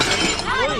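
A glass dish shatters among discarded kitchenware in a dumpster, a brief bright crash with tinkling fragments, close and loud, over a background of voices.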